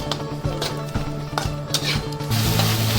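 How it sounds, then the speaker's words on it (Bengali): Spice masala of ginger and garlic frying in a pan for chicken rezala, with spoon scraping and clinking against the pan over a steady low sizzle, close up. "মশলাটা আমার ভাজা হচ্ছে"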